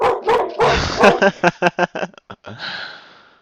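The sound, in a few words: dog barking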